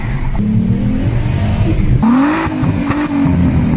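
A VR6 turbo car engine with an HPA setup runs loud and close, its steady idle rising into a sharp rev partway through with a rough, throaty roar and no one talking.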